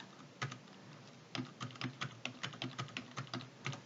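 Someone types on a computer keyboard while entering text and numbers into an Excel spreadsheet: close, crisp keystrokes in uneven bursts, with a short pause before a quicker run of taps.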